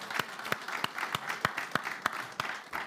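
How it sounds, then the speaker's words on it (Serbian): Church congregation applauding to welcome first-time visitors, a sparse rhythmic clapping of a modest crowd, steady beats about three per second, fairly distant and even throughout. "Ja bih želeo da jednim aplauzom pozdravimo sve vas koji ste prvi put s nama večeras."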